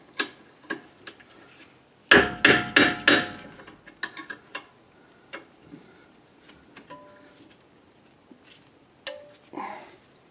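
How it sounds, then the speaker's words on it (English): A mallet strikes a wrench to break rear wheel hub bolts loose on a 2007 Kia Sportage, with a quick run of loud metallic blows followed by scattered lighter taps and clinks. "again I'm going to use a mallet just to break these loose"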